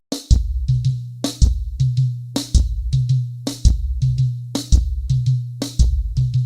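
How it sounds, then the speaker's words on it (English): A steady church praise drum pattern repeats six times, each cycle a crisp snare hit followed by deep, resonant tom and floor tom strokes, played close and loud with no talking. "take the first note, play it on the snare, take the second note, you play it on your floor tom"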